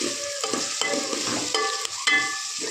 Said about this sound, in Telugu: ఆనియన్స్ ఇప్పుడు బాగా ఫ్రై కావాలి.